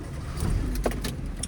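A manual car's engine cranks and fires up during a driving lesson, a short rumbling start with a brief surge partway through, heard close with faint key jingles.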